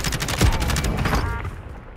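A burst of video game gunfire lands a headshot, with rapid shots crackling loudly and continuously over about two seconds amid busy in-game noise.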